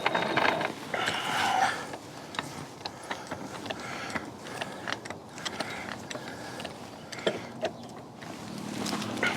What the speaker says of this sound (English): So the first thing you're gonna do is go ahead and jack up on that weld point.